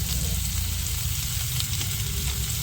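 Reddened onion and chopped tomato fry in oil with ginger paste for a crab dish, making a steady, loud, close sizzle that runs without a break.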